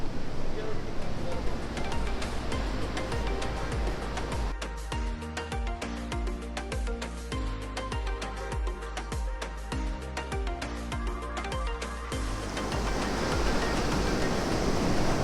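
Steady roaring surf fills the scene on Fraser Island, Australia, a dense wash of big breaking ocean waves, with a stretch of rhythmic clicking and tones layered over it midway.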